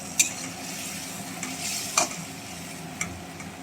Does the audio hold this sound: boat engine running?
no